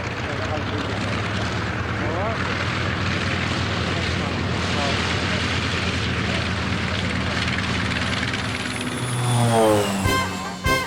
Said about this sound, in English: The North American company also built the T-28 Trojan, seen here flown by Judy Pay